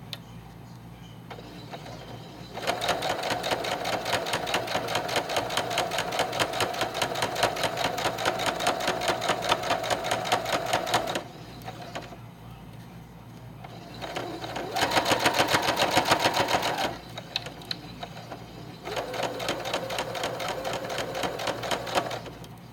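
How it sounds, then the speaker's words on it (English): A sewing machine runs a straight stitch joining fabric rug strips, with three long bursts of fast, even mechanical clatter separated by short quiet pauses, close and clear with faint background hum. "when I finish sewing the strips together"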